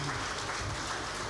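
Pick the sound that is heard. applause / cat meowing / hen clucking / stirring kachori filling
applause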